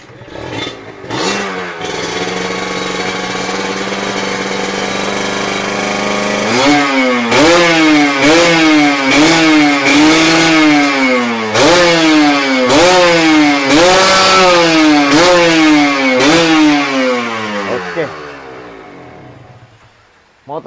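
Yellow sport motorcycle, repainted from green with full spotlights, idles then is revved repeatedly in a close, loud series of rising and falling throttle blips before settling back down.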